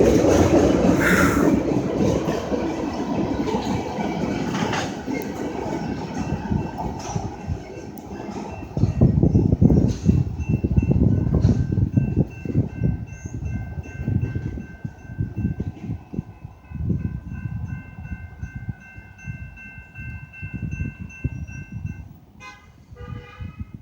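A BNSF manifest freight train led by four locomotives rumbles past nearby, with a loud, continuous roar of engines and rolling wagons, horn tones sounding through the passage, and the clatter easing off toward the end.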